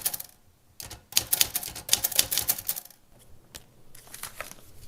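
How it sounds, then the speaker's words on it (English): Close, loud mechanical typewriter clatter in uneven runs of sharp key strikes, broken by brief pauses and a few isolated taps, with a final burst toward the end. "One of the things I'm doing now is I'm incorporating a typewriter"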